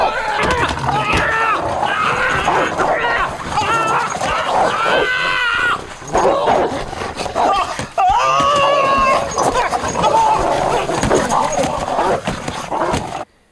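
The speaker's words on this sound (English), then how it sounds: "Don't you kick my dog!" A dog barks and whimpers in a chaotic, crowded scuffle during a 1984 drama scene, with shouting and screaming voices throughout that often bury the animal.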